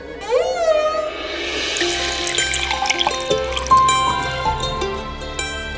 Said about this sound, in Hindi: पानी।